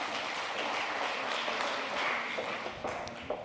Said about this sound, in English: Please, applause to Līga.